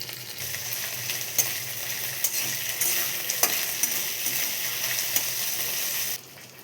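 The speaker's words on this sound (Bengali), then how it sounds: "এবার এটাকে ভালো করে আমি ভেজে নেব।" Salted ginger paste fries in a pan for vegetarian dalia khichuri, giving a steady bright sizzle broken by sharp scraping clicks of stirring before the sound cuts off abruptly.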